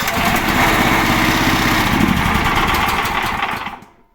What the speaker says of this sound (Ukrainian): Вейма, стартерний варіант на 18 кінських сил